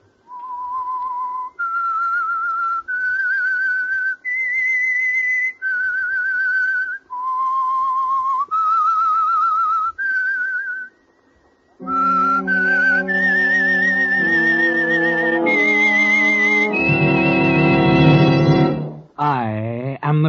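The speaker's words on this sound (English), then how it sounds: "That whistle is your signal for the Signal Oil Program," Whistled theme melody of the old radio mystery program The Whistler, sponsored by Signal Oil: a solo human whistle stepping through a slow series of sustained notes, then a fuller orchestral passage joining in and ending on a swelling chord.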